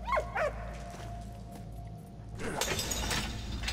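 A dog in the video game Valiant Hearts gives two short yelping barks at the start, close and fairly loud over a low game soundscape, then clattering mechanical noises follow.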